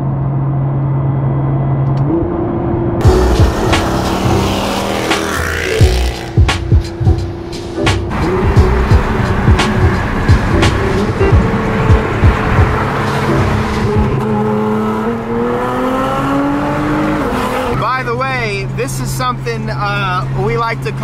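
Mercedes C63 AMG with headers and a full exhaust, a loud engine drone with rising revs and steady road noise while driving, with people talking over it throughout.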